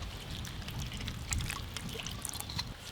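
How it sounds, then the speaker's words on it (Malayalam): Sunflower oil poured into a spiced masala for village-style chicken tikka, a soft trickling, gurgling pour lasting a few seconds with small splashy details over quiet kitchen background. "ഇനി കുറച്ച് സൺഫ്ലവർ ഓയിൽ."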